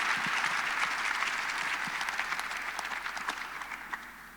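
An audience at the closing plenary of a global summit applauds the co-hosts and speakers: a broad, even roll of clapping from a large hall that gradually tapers off.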